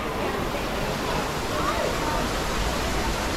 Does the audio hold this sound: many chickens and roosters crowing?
no